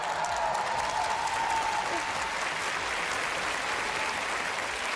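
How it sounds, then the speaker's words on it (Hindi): A packed stadium crowd applauds after the national anthem at a fundraising event, dense, sustained clapping like steady rain filling the whole stretch, with a faint tone briefly carrying over it. "राष्ट्रगान खत्म होते ही पूरा स्टेडियम तालियों की गड़गड़ाहट से गूंज उठा।"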